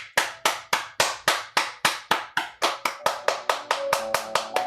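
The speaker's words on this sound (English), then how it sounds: "Slowly open the eyes and clap to break the spell." A group claps together in a steady, even rhythm of about three claps per second, sharp and close, at the close of a guided meditation circle. A faint tone rises near the end.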